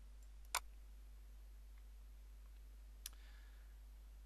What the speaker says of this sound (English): I'm just going to go ahead and click on Save.